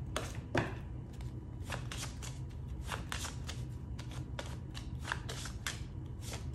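Tarot cards handled and shuffled in a continuous run of soft papery riffles and slaps, steady and close, with no talking.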